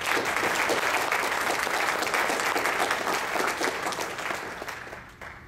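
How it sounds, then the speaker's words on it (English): An audience at a conference closing session applauds in a dense, sustained burst of clapping that fills the room, then thins and fades out over the final second. "Let's give them a round of applause as well."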